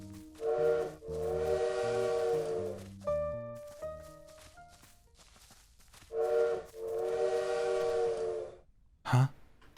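A bird's call mimics a train whistle in the game Little Witch in the Woods, with long steam-whistle blasts alternating with higher tonal notes and a short sharp sound at the end.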